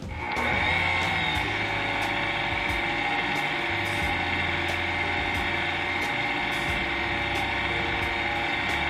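An electric mixer runs slowly through pineapple cream cheese pound cake batter, giving a steady whirring motor hum with faint, regular ticking over the whole stretch.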